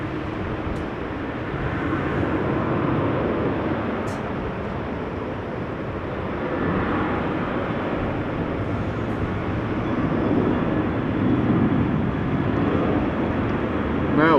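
A Boeing 747-8 taxiing at Amsterdam Schiphol Airport after leaving the Polderbaan runway produces a continuous low jet-engine rumble and whine, distant and steady, swelling slightly toward the end with no break.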